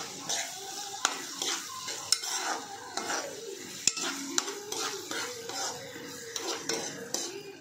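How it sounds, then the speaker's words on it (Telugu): A spoon scrapes and taps a cooking pan in a steady stirring rhythm as curry leaves sizzle in hot oil, close and fairly quiet. "కరివేపాకు కూడా 2 రెబ్బలు వేసుకోవాలి. తిప్పుకోవాలి."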